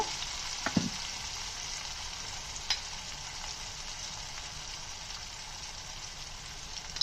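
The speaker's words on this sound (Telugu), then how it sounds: "ఇప్పుడు మనం చిన్న ముక్కలుగా కట్ చేసుకున్న టమాటా ముక్కల్ని దీంట్లో వేసేస్తున్నాను." Chopped tomato pieces sizzle steadily in hot oil in a pan with fish eggs, a constant close frying hiss with a brief clatter near the start as they drop in.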